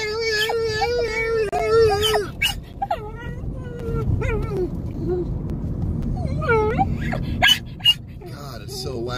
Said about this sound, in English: What are you barking at now? Why are you barking at me now?